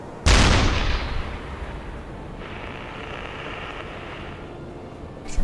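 A submarine deck gun fires in the UBOAT sim on rough seas: one sharp, loud blast that decays into a long roaring wash, then a second shot just starting at the end.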